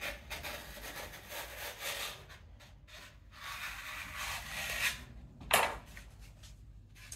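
Dry floral foam block being shaped by hand, its corners rubbed and rounded into an oval: soft, continuous scraping and rubbing strokes, close and fairly quiet, with a sharper scrape near the end.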